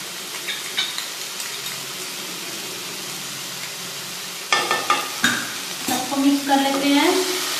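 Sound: stirring spring roll filling with tomato and chilli sauce

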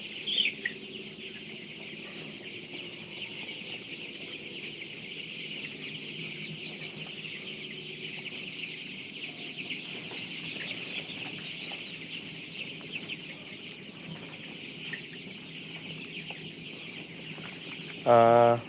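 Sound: chickens on a poultry farm

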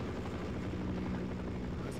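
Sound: helicopter in the video game Half-Life

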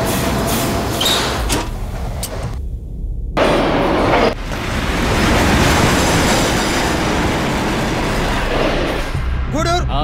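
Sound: passenger train running

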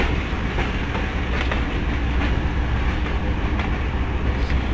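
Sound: train picking up speed on the tracks

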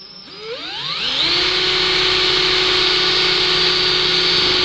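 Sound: drill making holes in a luggage bag

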